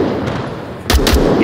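Two sharp, loud gunshots ring out in quick succession near the end, fired in the VR shooter game Onward after a stretch of quieter in-game ambience.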